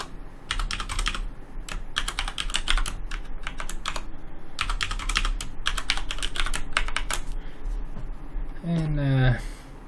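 Someone types a password on a computer keyboard in rapid bursts of keystrokes separated by short pauses, and a voice is heard briefly at the end.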